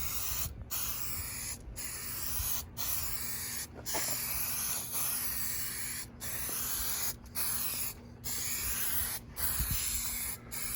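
Aerosol sealing coating sprayed onto a truck headliner in repeated hissing bursts of a second or two, separated by short regular pauses, close and fairly quiet.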